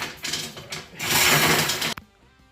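Ridge reamer cutting the top edge of an engine cylinder, a close grinding, scraping metal sound in two bursts, the second longer and louder, ending abruptly in near quiet.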